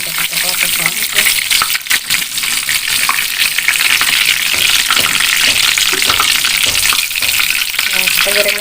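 Tofu sizzles and crackles loudly in hot frying oil, a dense continuous spatter with occasional stirring clinks, up close.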